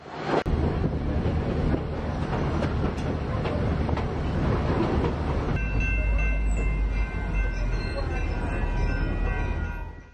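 A Great Smoky Mountains Railroad train rolls along the tracks on the return run to Bryson City, a loud steady rumble and clatter with wind noise and a faint hum joining partway through.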